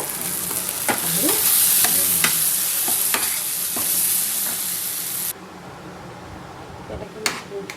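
Prawn curry with tomato and mustard-cashew paste bubbles and sizzles in a pan, with frequent stirring scrapes and clinks, loud and close for the first five seconds before fading to a quieter simmer.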